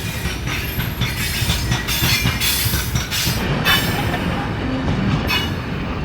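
A Saharan iron ore freight train in Mauritania rolls past close by, steady rumbling with rhythmic clattering of wheels on the rails and occasional metallic squeals; no talking.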